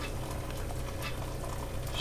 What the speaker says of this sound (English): I'm then going to measure my 800 or so millilitres of water.